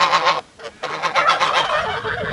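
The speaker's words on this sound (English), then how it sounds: "I've got the geese here going and the turkeys over there going." Geese honk loudly and close in a smallholding poultry yard, a burst of harsh repeated calls with a short pause, then more overlapping honking.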